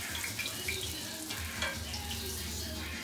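Trini doubles bara dough frying in hot oil gives a steady, bubbling sizzle throughout, with soft clatter and low background rumble mixed in.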